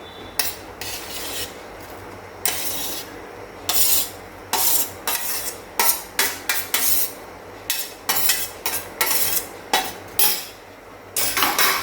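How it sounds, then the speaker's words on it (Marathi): Egg curry with egg whites added is stirred and mixed in a pot, a run of loud rhythmic metal scrapes and clatters from a spoon against the vessel, picking up pace toward the end. "असं व्यवस्थित मिक्स करूया हे सर्व"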